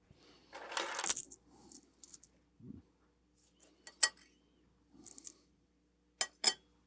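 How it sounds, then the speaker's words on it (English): Coins set down one after another around a lit candle during a new-moon prosperity rite, giving several sharp metallic clinks and taps spaced across a few seconds in a quiet room. "take the 7 coins and place them all around it"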